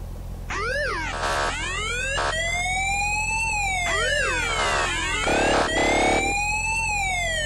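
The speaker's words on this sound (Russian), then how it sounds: "Присутствует еще сирена для этого." Siren fitted to a BMW X5 M in the SpinTires off-road driving game, wailing and yelping in rising and falling sweeps that repeat in cycles, loud and steady over a low engine hum.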